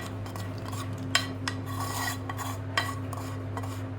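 Utensils scrape and clink against a pot as ghee-fried dry fruits are stirred into basmati rice kheer, with a few sharper metallic taps over a steady low hum.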